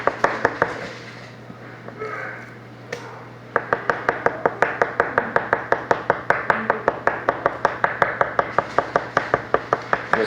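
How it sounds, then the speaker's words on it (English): Rapid, evenly spaced sharp taps of a tool punching holes into raw meat to tenderize it, a brief pause early on, then a steady quick rhythm of close, crisp strikes over a low steady hum. "punch holes into the meat lightly, not too many, and you will tenderize your meat"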